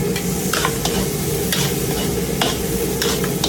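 Garlic, onion and ginger sautéing for pinangat tilapia, a loud continuous sizzle in hot oil with repeated spatula scrapes and stirring clatters, close up and without speech.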